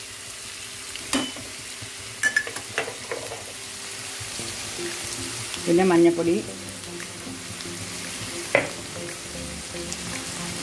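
Fried bitter gourd masala is stirred in a pan over a constant soft sizzle, with scattered scrapes and clatters of the spoon, and a voice speaks briefly.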